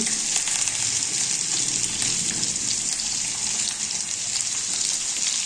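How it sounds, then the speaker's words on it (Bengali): Winter vegetables, including beans, carrot, pumpkin, eggplant and radish, frying in a pan while being stirred, giving a steady, close, bright sizzle with no pauses. "মূলো এবার নেড়ে চেড়ে নিচ্ছি"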